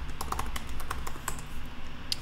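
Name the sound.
typing on a computer keyboard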